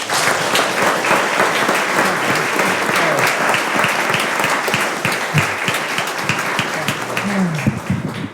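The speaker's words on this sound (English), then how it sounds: "if we could give the team and the coaches a big round of applause" Audience applause for a school team and its coaches at a board of education meeting, steady dense clapping filling the room for about eight seconds with a few voices mixed in.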